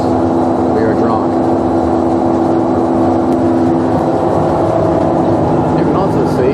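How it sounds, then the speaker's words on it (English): Gas burners firing inside a Probat UG15 coffee roaster, a loud, steady roaring hum with a constant mechanical drone, close and unbroken. "you can see those burners going on in there"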